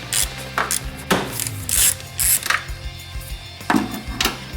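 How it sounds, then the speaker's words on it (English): Worm-drive hose clamp being loosened at the base of a Mishimoto throttle body hose, with close, irregular metallic scraping, rubbing and light clinks in short bursts. "loosen the worm clamp located at the bottom of the throttle body hose"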